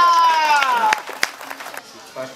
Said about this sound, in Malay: Bagi tepukan semua